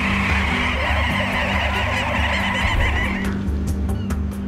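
A dense chorus of seabirds calling at summer island cliffs in Scandinavia, honking, goose-like cries layered over one another, loud and continuous throughout, with the busy calling thinning slightly toward the end.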